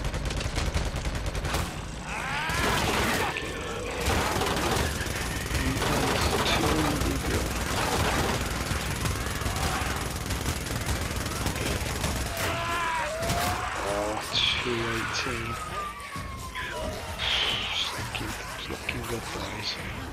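Rapid bursts of gunfire from the Growler weapon in a video game ring out repeatedly over continuous battle noise, with voice chatter and other game effects layered throughout.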